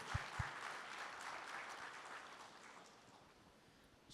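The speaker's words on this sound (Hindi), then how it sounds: "जोरदार तालियां हमारे चेयरमैन साहब के लिए" Audience applause for the chairman at the Zee Real Heroes 2025 awards event, a faint, steady patter of many hands clapping from a distance, fading slightly toward the end.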